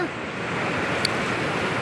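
A strong river current flowing in from the sea, a steady rushing wash of water heard close and fairly loud, blended with wind noise on the microphone.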